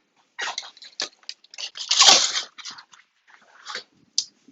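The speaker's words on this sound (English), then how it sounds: "These dogs are very distracting." Several dogs whimpering, yipping and growling nearby, with broken bursts of whining and one louder, sustained stretch of excited vocalizing in the middle, in an indoor home setting.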